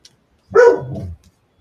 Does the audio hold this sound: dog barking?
yes